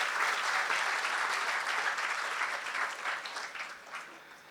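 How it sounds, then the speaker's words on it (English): Crowd applauding at the inauguration of a children's hospital in Fiji, a full, even roar of clapping that carries steadily, then thins and fades over the last second. "I think we all should offer a very big round of applause"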